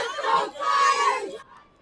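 Crowd in the cheering section at a youth bantam hockey game, Fremont Flyers against Mason City Mohawks, yelling and cheering together in a loud continuous swell that breaks off after about a second and a half.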